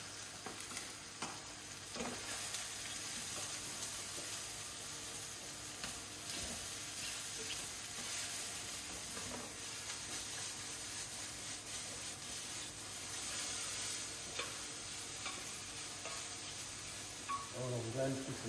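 Onions and mushrooms frying in a pan with plenty of fat, a steady close sizzle with scraping stir strokes throughout, continuing under a speaking voice.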